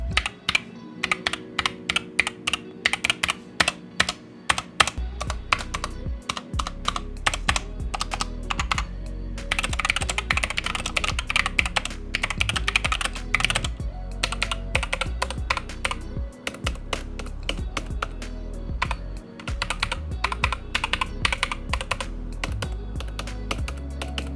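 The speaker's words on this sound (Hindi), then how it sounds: "With these Gateron red switches, let me show you how this keyboard sounds" Fast, continuous typing on a Skyloong SK64 mechanical keyboard with Gateron red linear switches. A dense run of close, crisp key clacks comes in quick bursts, with a few brief pauses, and nobody talks.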